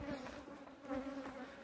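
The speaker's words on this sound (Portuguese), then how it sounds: "umas abelhas bem manejáveis aqui, ó" Honeybees buzz close by at an apiary of about forty hives, with a steady droning hum and no voices.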